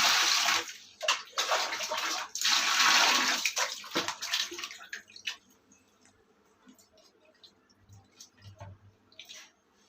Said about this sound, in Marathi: आता आपण ही स्वच्छ पाण्याने धुवून घेणार आहोत